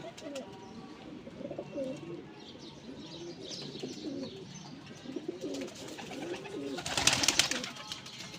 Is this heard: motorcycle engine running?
no